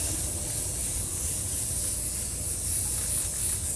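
Aerosol can spraying quick-drying paint in a garden, a steady close hiss running unbroken from start to finish.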